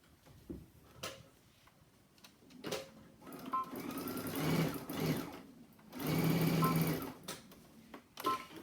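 A sewing machine stitches a seam through fabric placed right sides together, running in two steady, fairly loud bursts separated by quieter pauses with light taps and handling.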